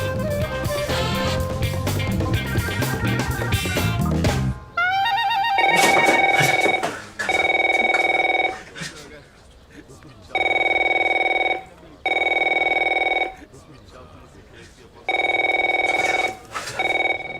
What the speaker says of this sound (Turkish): Aha telefon geldi.